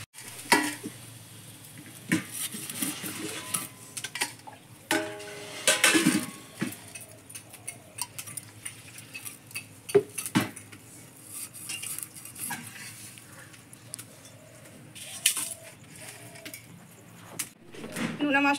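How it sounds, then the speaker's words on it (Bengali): Salted hilsa fish is chopped into small pieces in a home kitchen, giving irregular knocks and scraping clatter close by, with occasional sharper hits and soft background sounds. "নোনা মাছটাকে ছোট ছোট করে কেটে নেব।"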